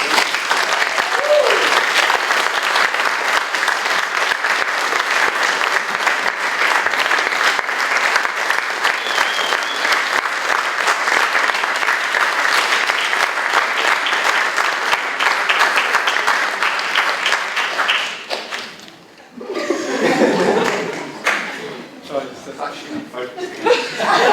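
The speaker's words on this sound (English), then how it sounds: "Let's give a round of applause" Crowd at an achievement celebration breaking into sustained applause, loud and continuous for around eighteen seconds, then dipping briefly before clapping and scattered chuckles resume alongside a voice.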